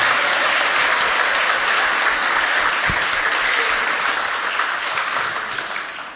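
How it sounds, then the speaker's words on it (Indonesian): An audience at an evening hymn event claps steadily in sustained, dense applause, loud and enveloping, gradually tapering toward the end. "Tepuk tangan buat kita semua."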